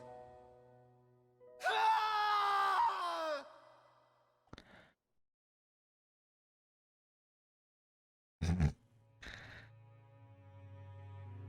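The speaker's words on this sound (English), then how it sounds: "Those screams." Video-game screams from Tales of Arise: one long anguished vocal cry, then a brief sound, silence, and two short harsh bursts with low game ambience between them.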